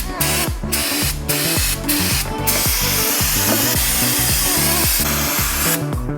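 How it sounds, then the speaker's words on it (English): Brake cleaner sprays from an aerosol can, washing motor oil off parts during a Toyota Supra oil change. A steady, loud hiss runs almost without a break over rhythmic background music. "It's called investing in brake cleaner."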